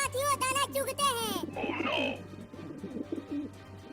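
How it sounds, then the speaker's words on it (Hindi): Cartoon pigeons coo and chirp in a rhythmic series over a steady low hum, then a voice speaks over scattered bird calls. "वो देखो आसमान में ढेर सारे कबूतर उड़ रहे हैं।"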